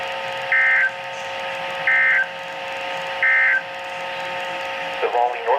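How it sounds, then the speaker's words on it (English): NOAA Weather Radio public warning alarm tone test from the National Weather Service in Raleigh, North Carolina: three steady beeping tone bursts about 1.4 seconds apart over a droning broadcast background. "the National Weather Service has just activated the public warning alarm tone in the test"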